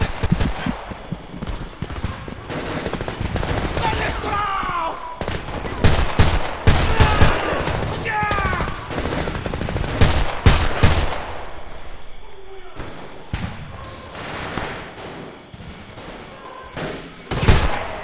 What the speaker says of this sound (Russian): Мою позицию обстреливают!